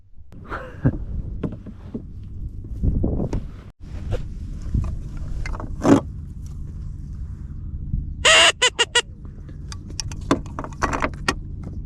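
Crows caw in sharp repeated bursts near a duck hunter's wooden pirogue in the marsh, the calls loud and close, mixed with knocks and rattles from the boat and gear, no one talking.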